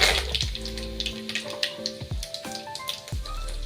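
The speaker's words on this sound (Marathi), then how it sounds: "कढईमध्ये तेल तापत ठेवून त्याच्यामध्ये मोहरी, जिरे आणि कढीपत्ता ह्याची फोडणी करून घेणार आहोत आपण." Mustard seeds, cumin and curry leaves sizzle in hot oil in a kadhai, giving a crackly hiss broken by sharp pops and a few louder bursts, close and fairly quiet, with no voices.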